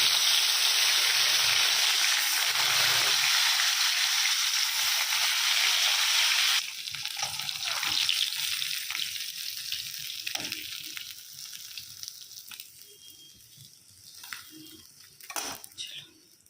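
Bhola fish sizzling and frying loudly in a pan, a steady close hiss that drops to quieter crackling and clinks about midway.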